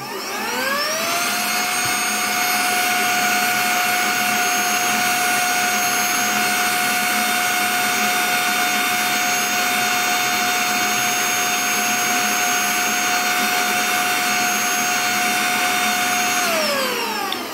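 A Parkside vacuum cleaner runs in blowing mode with a loud, steady whine and rushing airflow, spinning up at the start and winding down at the end.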